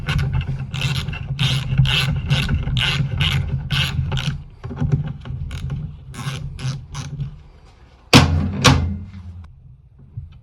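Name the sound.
ratchet tightening transmission oil pan bolts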